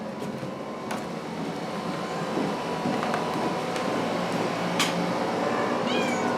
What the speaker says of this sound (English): And this is Ellen with her 2 little orphan kittens